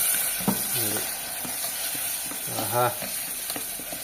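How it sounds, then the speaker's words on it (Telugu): A spoon stirs a sizzling egg curry base in an electric kettle, with soft scraping and a steady frying hiss while a voice speaks briefly over it. "ఒకసారి కలిపేసి అప్పుడు గుడ్లు వేసేస్తా."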